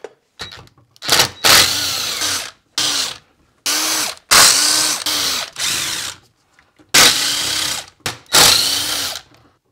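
A power tool backs bolts out of Yamaha YZ250 engine cases in loud, close bursts, each a whirring spin of a second or so separated by short pauses, about eight runs with no talk.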